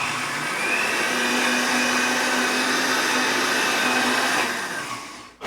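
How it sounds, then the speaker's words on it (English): An inexpensive Amazon Basics blender runs at home, a steady, loud motor whine with a constant hum holding for several seconds before spinning down at the end, with no voices. "It's just the Amazon Basics one. It's nothing fancy. It's not like a proper food blender or anything."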